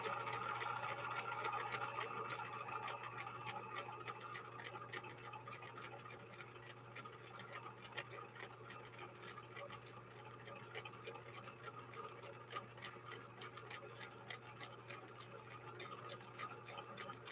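A 1963 Husqvarna Viking 19E sewing machine runs steadily through saddle-grade leather, a faint, even mechanical hum with rapid needle ticking and no talk.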